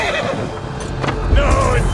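A horse whinnies sharply in Assassin's Creed Valhalla, a brief loud neigh with hoof clip-clops, set amid battle sounds and a voice talking.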